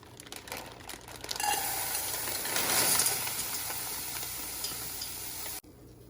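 Salmon fillets frying in a pan on medium heat give a steady close hiss and sizzle that swells after a soft start, peaks near three seconds, then holds before cutting off abruptly.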